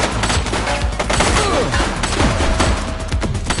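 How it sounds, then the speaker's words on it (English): Rapid gunfire crackles through a police video game shootout, a dense loud fusillade of overlapping shots filling the whole stretch without pause. "She's shooting!"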